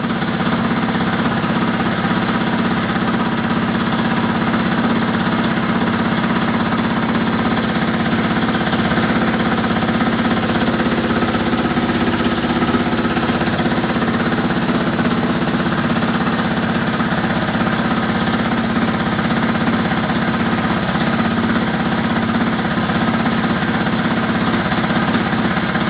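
A household washing machine running loudly on a fast spin, a steady droning hum with rumble and vibration that holds constant throughout, close by and with no voices.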